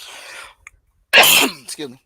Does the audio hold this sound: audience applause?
no